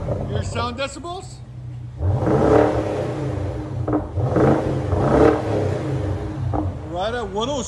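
A 2015 BMW 650i with a 4.4-litre V8, fitted with resonators and a muffler delete, revs hard in loud, rumbling bursts. Excited voices talk over the engine between revs, with a brief pause before a second roaring run.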